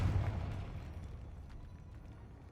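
A Confringo fire spell blast in Hogwarts Legacy hits with a loud, low boom at the start, then fades into a rumbling, crackling tail that lasts for a couple of seconds.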